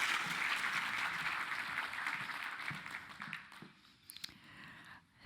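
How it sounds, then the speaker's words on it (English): Audience applause at a privacy forum on mandatory data breach notification: a dense, steady wash of clapping from a large room that holds for a few seconds, then thins out and fades to scattered claps. "Give her a huge round of applause."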